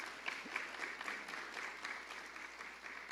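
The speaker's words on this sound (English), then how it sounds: "I would really like you to give her a special round of applause." An audience gives a round of applause at an HDC public event, with steady, fairly faint clapping throughout and no talking over it.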